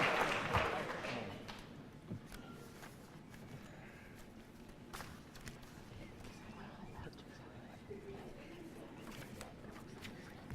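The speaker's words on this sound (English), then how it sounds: "How about a round of applause?" Audience at the end of a quiz competition breaking into applause, a burst of clapping that is loudest in the first second or two and then fades into scattered claps and room murmur.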